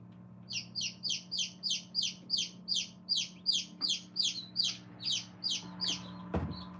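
Newly hatched chicks peep inside an incubator in a rapid, regular series of loud, close chirps over a low steady hum, ending with a brief clunk.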